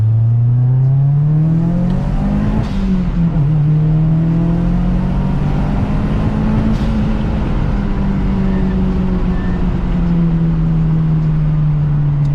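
Mazdaspeed 6 fitted with a BNR S4 turbo pulling under acceleration, a loud, close engine drone rising in pitch with a turbo whine, dipping at a gear change, then climbing again.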